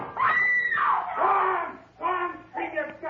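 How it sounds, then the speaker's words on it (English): A man screams in a radio drama, with long, loud, wavering cries in close succession followed by shorter broken yells. "scream your guts out"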